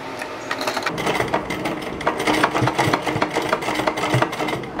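A sewing machine stitches a frill for a pillow cover, with a fast, steady mechanical chatter of needle strokes that runs continuously and close up, with no voices.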